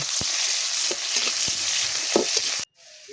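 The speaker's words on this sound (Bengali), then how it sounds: "এটা ভালো করে ভেজে নেব" Panch phoron and onion fry in a pan with a loud, steady hiss close by, punctuated by a few stirring scrapes, then cutting off abruptly into near silence just before the end; nobody speaks.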